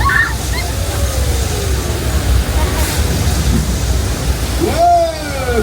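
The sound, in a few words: rushing water flood effect on Universal Studios tram tour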